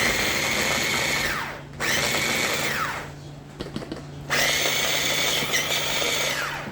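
A small food processor chops food in short pulses, a loud whirring motor that spins up and winds down three times with brief pauses and small clatters in between.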